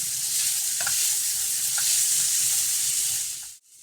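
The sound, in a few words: crab added to tomato masala, stirred and frying in pan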